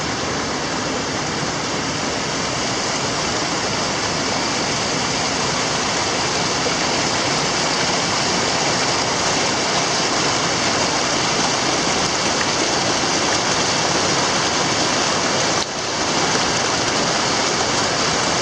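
Flowing stream near a backcountry campsite in the Georgia woods, a loud, steady, broadband rush of water heard up close without a break for nearly twenty seconds.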